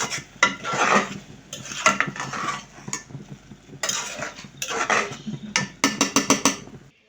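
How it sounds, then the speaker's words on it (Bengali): Spoon stirring chickpea dal (buter dal) in a metal cooking pot, scraping and clinking in uneven bursts, with a cluster of quick taps near the end, close and moderately loud, with no voices. "সেটা আমি এখন একটু নেড়ে ছেড়ে দেবো"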